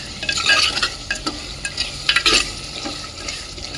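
Salted rice for mutton biryani is stirred in a clay pot, with a spoon scraping and clattering in uneven strokes over a soft sizzle, close and fairly loud with no voice.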